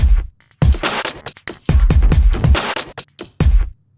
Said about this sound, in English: It's a cool kind of glitchy, strange, warping drum loop.